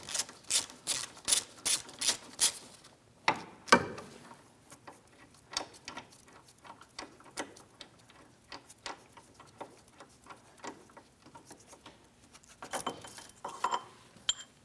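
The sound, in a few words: loosening mounting bolts on Ford Edge backing plate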